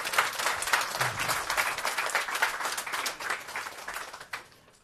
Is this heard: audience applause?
yes